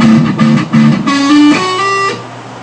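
A short electric guitar riff: three quick repeated plucked phrases, then notes slurred upward with hammer-ons into a sustained ringing tone, played alone and clearly.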